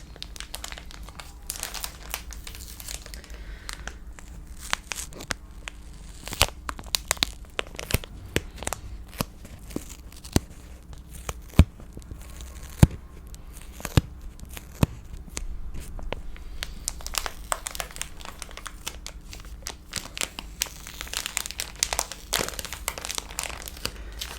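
Pillowcase being unwrapped from its plastic packaging, giving close, crisp crinkling and rustling with irregular bursts, occasional tearing and sharp crackles throughout, and no speech.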